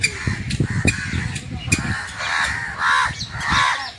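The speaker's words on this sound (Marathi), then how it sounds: "हे बघा किती कावळे आहेत." Several crows caw loudly and repeatedly, harsh calls overlapping from nearby, with a few sharper squawks mixed in.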